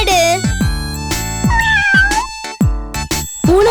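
Cartoon kitten in a children's story, with several short, high, melodic meows in quick succession alongside musical tones, loud and close.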